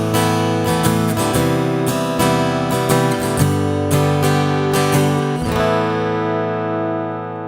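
Strummed acoustic guitar chords through an FX8 compressor and EQ, bright and compressed, played steadily in a rhythmic pattern, then ringing out and fading at the end.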